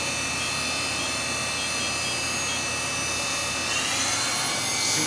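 Matsuura MC-600V vertical machining center spindle spinning at 5,000 RPM, a steady high-pitched whine with a constant mechanical hum that shifts slightly in tone near the end, continuous and fairly loud with no talking.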